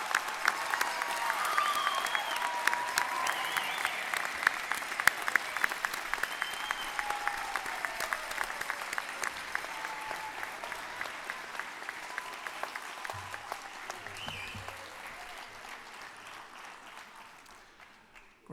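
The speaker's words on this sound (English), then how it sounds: "Another round of applause." Sustained applause from a large audience at a state university fall commencement, dense and loud, continuing evenly for many seconds and slowly tapering toward the end.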